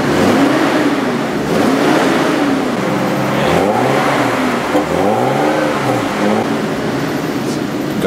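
A 2,000-horsepower Camaro engine revs loudly and close, with rising and falling pitch sweeps over a steady roar across the whole stretch.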